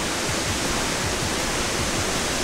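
Steady roar of a forest waterfall, a loud broadband rush of falling water filling the whole stretch without letup or voices.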